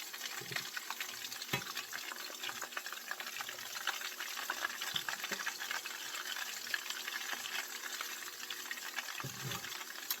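Oyster mushrooms sizzle in a pan, a steady, fairly quiet hiss and bubbling with a few soft knocks and clatters from the cookware.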